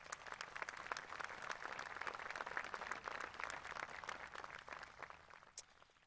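Audience applause for faculty and staff at a Class of 2021 graduation ceremony, a dense burst of many hands clapping that sustains for several seconds, then thins out and fades near the end.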